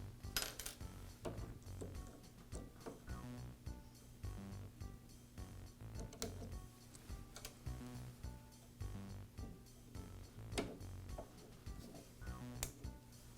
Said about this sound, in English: I'll begin by removing the chains and sprockets. The sprockets are secured with retaining rings.